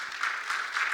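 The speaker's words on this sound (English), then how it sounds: "A round of applause for our esteemed panel" An audience at an investment conference gives a conference panel a brief round of applause, with steady, fairly close clapping that stays even for about a second with no voices.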